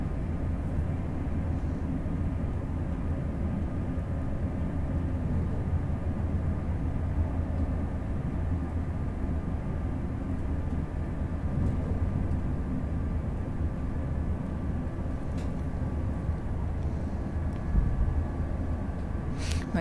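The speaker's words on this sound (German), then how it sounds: "der Zug beschleunigt jetzt gerade" An ICE 3 high-speed train in Train Sim World 2 accelerates, giving a steady, continuous low rumble with a faint electric whine that holds level throughout, no voices.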